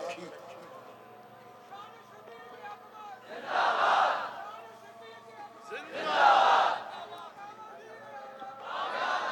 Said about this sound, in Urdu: او بھائی ہمارے نعرے نہ لگاؤ